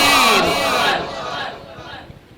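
A crowd shouts the Nara-e-Takbir slogan in unison at a religious naat gathering, a loud reverberant roar of many voices that swells then fades over a couple of seconds.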